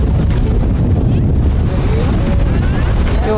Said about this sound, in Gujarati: જો કેવું મસ્ત ઠંડો ઠંડો પવન આવે ને અહીંયા